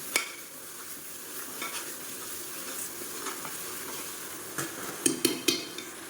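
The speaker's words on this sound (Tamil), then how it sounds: "அந்த பூண்டோட பச்சை வாசனை போகிற அளவுக்கு நல்லா வதக்கிக்கலாம்" Ground garlic sautéing in hot oil for a wedding-style mutton biryani, a steady soft sizzle with a few clinks of a spoon against the pan near the end.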